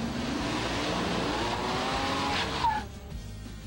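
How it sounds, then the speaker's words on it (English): A four-wheel drive Ford Ranger drives hard with its engine droning and tires skidding, the squeal rising and building before cutting off sharply near the end; no one speaks. "Now, the four-wheel drive Ford Ranger."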